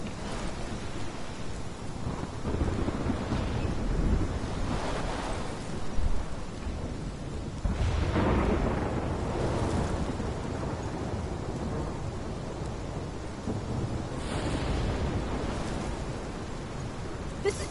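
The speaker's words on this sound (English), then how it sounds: "This is my storm." A roaring storm in the video game Life is Strange, with wind, rain and rumbling thunder surging in long swells of broad noise, loud and continuous with no voices.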